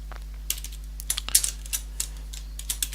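Fast, uneven keystrokes on a computer keyboard while code is entered, crisp close clicks in quick bursts with brief pauses between, no voices.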